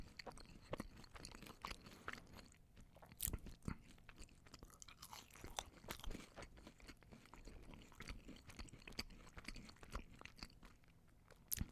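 Crunchy Taco Bell tacos are bitten and chewed close to the microphone, giving sharp, brittle crunches followed by repeated moist chewing in an irregular rhythm, quiet between bites with no talk.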